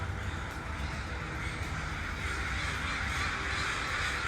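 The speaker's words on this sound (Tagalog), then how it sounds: "Do you hear all the birds? They're everywhere." Crows cawing outdoors beside a Costco parking area in Canada, a continuous chorus of harsh calls from many birds at mid distance over steady background rumble.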